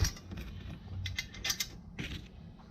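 Faint metallic clicks and creaks come from bolting a part on with washers, a few irregular taps and scrapes close by in a quiet space.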